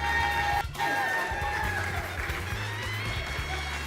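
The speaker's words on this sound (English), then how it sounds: "Let's give her a round of applause." Audience at a 2017 award ceremony clapping and murmuring, a steady wash of applause and crowd noise that carries on under a voice.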